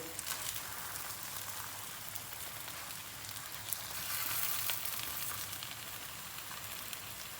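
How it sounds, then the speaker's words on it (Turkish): Steady, crackling sizzle of chicken börek dough frying in an oiled pan, dense and continuous throughout, swelling slightly louder midway. "Arkadaşlar 4 dakikada öbür tarafını kızartacağız"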